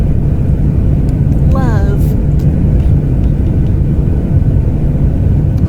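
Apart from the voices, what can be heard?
airplane engine in video game Hearts & Hexes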